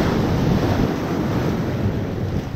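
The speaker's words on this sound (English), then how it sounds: "Look how big some of these waves are." Rough ocean surf rolls in heavily at Cokie Beach on St. Thomas in the US Virgin Islands, a loud continuous wash of breaking waves with strong wind buffeting the microphone.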